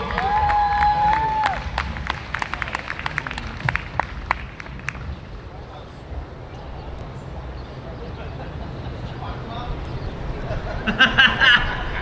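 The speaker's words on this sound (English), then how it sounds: "big round of applause for our two musicians, Iolani and Akoliko Martin." Crowd claps and cheers for two musicians, dense at first with sharp hand claps, then thinning into scattered applause and murmuring voices.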